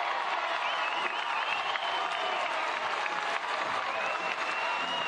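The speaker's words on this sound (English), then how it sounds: "The home crowd fired up." A home crowd at a college baseball game in Kentucky applauds and cheers a leadoff double, steady dense clapping and shouting throughout, loud and sustained with faint talk beneath.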